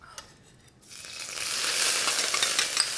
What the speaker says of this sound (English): I need a good amount of oil, sort of a tablespoon or so, to fry my pickled mustard greens.